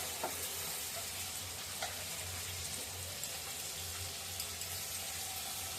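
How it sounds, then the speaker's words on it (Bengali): Water at a rolling boil in a cooking pot as pieces of taro are dropped in, a steady bubbling and seething hiss that runs continuously at close range, with a few soft plops and knocks and no talking. "এই যে জলটা টকবক করে ফুটতেছে"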